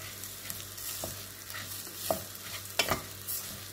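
A spoon stirs bulgur pilaf in a pot, giving soft scraping strokes over a faint sizzle, close and fairly quiet.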